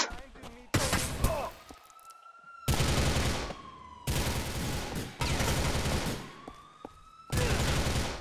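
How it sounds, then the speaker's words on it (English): Bursts of gunfire aimed at the player in Grand Theft Auto 4 come in loud, dense volleys separated by short lulls, with a siren-like wail running through and a voice talking between the bursts. "I don't even know where I'm being shot from, bro. Who is shooting me?"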